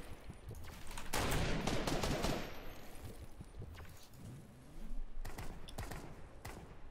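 Gunfire bursts in a video game, a sharp sniper rifle crack among busy shots: a loud burst near one second, scattered shots, then another loud burst near five seconds over noisy background.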